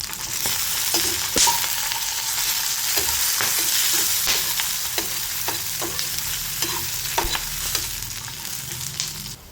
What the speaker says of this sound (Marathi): आता इथे आपण जिरे पण टाकून घ्यायचे आहे भाजायला.